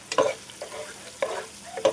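Chicken liver, chopped chicken and onion fry together in a pan, stirred in a few distinct scraping bursts over a soft sizzle, close and alone with no voices.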